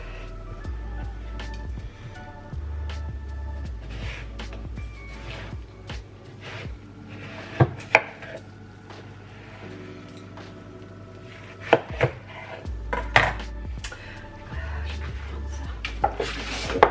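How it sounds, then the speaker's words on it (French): A knife chops a watermelon into pieces on a board in a home kitchen, with irregular sharp cutting knocks, a few louder thuds, soft juicy squelches and a low background hum. "là, je vais préparer ma pastèque. Je vais la prédécouper"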